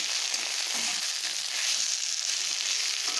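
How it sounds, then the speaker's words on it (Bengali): Pointed gourd sautéing with spices and a splash of water in a pan, a constant dense hiss of frying at close range with no breaks and no voices. "আর একটুক্ষণ কষিয়ে নেব ভালোভাবে"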